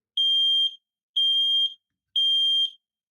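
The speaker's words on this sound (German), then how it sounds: "Damit könnt ihr den Rauchmelder testen." A shrill, high-pitched smoke detector test alarm beeps three times in an even rhythm, each tone lasting about half a second with short silences between.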